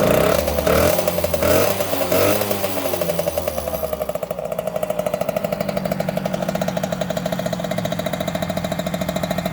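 A Yamaha YSR50 two-stroke motorcycle engine idles steadily and up close, its rapid even putter running alone after a brief louder, rougher stretch at the start.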